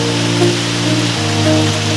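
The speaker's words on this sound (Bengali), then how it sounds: "আজকে আমাদের এখানে বৃষ্টি নেমেছে এই দেখো" Rain falls steadily during a rainy day at home, a continuous close hiss with no voices and a faint low hum underneath.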